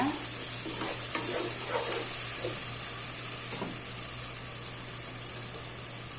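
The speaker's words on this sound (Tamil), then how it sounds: "தக்காளி நல்லா வதங்கிட்டுங்க" Tomatoes sauté in a pan for rajma masala, giving a continuous close sizzle with soft stirring scrapes over a steady hum.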